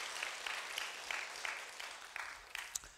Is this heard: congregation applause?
yes